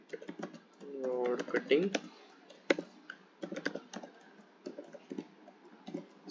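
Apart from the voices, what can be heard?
typing code on a computer keyboard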